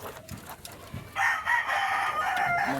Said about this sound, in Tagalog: Manok.